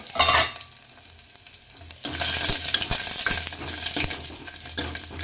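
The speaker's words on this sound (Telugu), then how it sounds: "ఆవాలు జీలకర్ర వేసుకున్నానండి, చిరుచిరు అంటుంది కదా." Mustard seeds and cumin sizzle in hot oil for a tempering, a steady crackling hiss that starts after a brief clatter and continues close and loud, with small pops throughout.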